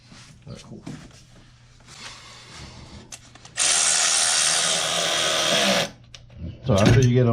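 Pneumatic impact gun runs in a loud sustained burst on the exhaust header nuts of a 2004 Honda Civic EX during a header install, preceded by workshop noise and followed by a short second burst, with talk nearby.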